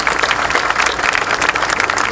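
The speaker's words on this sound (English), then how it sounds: "Let's give her a round of applause." An audience at a city council event applauds, a dense, steady roar of many hands clapping at close range, loud and unbroken throughout.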